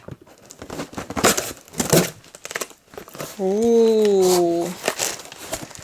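Plastic air-cushion packaging around a parcel holding a vintage designer handbag is cut open, giving close crinkling and tearing rustles, followed by a brief drawn-out vocal exclamation.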